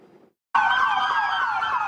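Police squad car sirens wailing loudly in downtown Los Angeles during a pursuit, a dense sustained wail that starts abruptly after a brief softer sound and a moment of silence.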